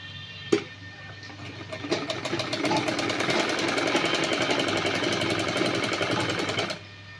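A sewing machine runs steadily while stitching the neckline of a suit, with a sharp click at the start before the motor builds into a rapid, even mechanical rattle for several seconds and then stops abruptly.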